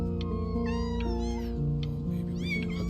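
Several cats meow repeatedly in the video game Before Your Eyes, high wavering cries overlapping against a steady musical background, with no talking.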